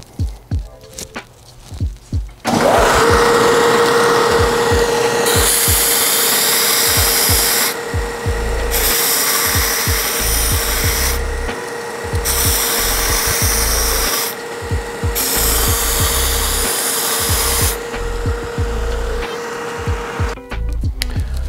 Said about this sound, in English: Anytime you're going to be working on the belt sander